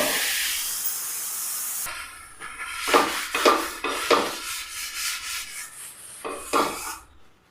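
Thin rava dosa batter meets a very hot tawa with a loud initial hiss, then a series of rhythmic sizzling swishes as it spreads and cooks, close and without speech.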